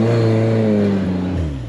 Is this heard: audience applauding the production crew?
no